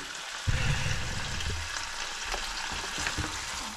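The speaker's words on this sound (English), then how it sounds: "and onions all frying nicely together" Onions and bacon fry together in a pan with a steady broadband sizzle, plus a few stirring scrapes and clatters near the start, close and fairly loud with no talk.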